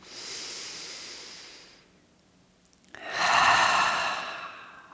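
Deep breathing during a meditation exercise: a long, airy exhale fades into a short pause, then a strong, hissing inhale or exhale swells up close to the microphone, with no speech.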